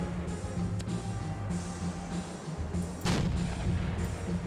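Rapid cannon and artillery fire from an AC-130 gunship in the video game Ravenfield, a steady sustained barrage with a louder burst near the end, no talking.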